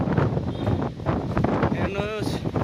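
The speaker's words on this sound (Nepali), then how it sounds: "हावा चलिरहेको छ" Strong wind blowing outdoors under a dark, stormy sky, a loud rushing buffet across the microphone while a person talks over it.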